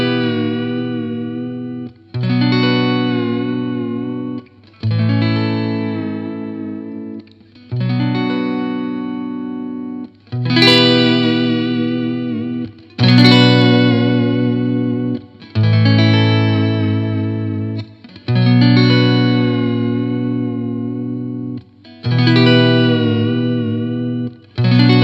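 Glarry Stratocaster-style electric guitar played through a tremolo effect, ringing chords sustained loud and clear in a steady series of pulsing strums with no talking.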